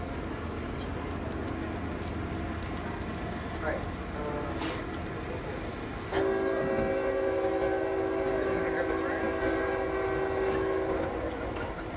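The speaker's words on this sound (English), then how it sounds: "The train is definitely rolling along the field" A train rolls past near a football field during a homecoming game, a steady broad rumble with a sustained horn-like tone in the second half, under crowd noise and talk.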